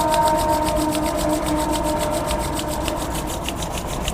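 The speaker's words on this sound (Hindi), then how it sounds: "अपने हाथों को रब करिए" Palms briskly rubbed together during a yoga session, a rhythmic rapid swishing friction repeated back and forth, close and steady over a faint background hum.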